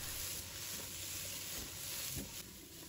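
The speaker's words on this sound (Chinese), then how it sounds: "把冬瓜倒入锅中，开中小火，把冬瓜干炒一下" Winter melon dry stir-fried over medium-low heat in a hot wok gives a faint, steady sizzling hiss that runs evenly and unbroken throughout.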